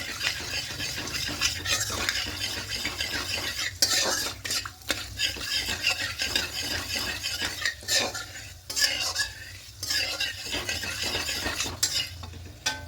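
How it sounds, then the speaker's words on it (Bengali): A utensil stirs whole cinnamon, cardamom and cloves with sugar in hot oil in a pan, a close, continuous scraping and clinking over a soft sizzle that lasts throughout. "এবার এই তেলের মধ্যে গোটা গরম মশলা ফোড়নে দেব দারুচিনি এলাচ লবঙ্গ আর এখানে চিনিটা দিয়ে দেব এবার দিয়ে খুব ভালো করে মিশিয়ে নেবো"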